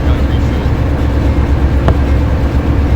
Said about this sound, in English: Deadhead train.